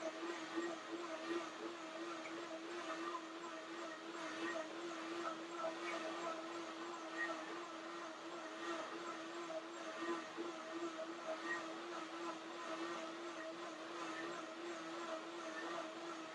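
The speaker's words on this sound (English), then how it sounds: "So now I blend once again. I do the blender dance one more time." A kitchen blender whirs steadily, blending cherries, cacao and oatmeal into a breakfast mix, with a continuous, fairly even motor drone that stays moderately loud throughout with no talking over it.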